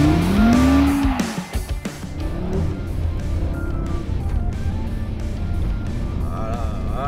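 A Cupra Formentor VZ5 SUV with a five-cylinder engine drifts sideways on a snowy Lapland track, engine revving high then holding a steady growl, loud and close, with no voices heard.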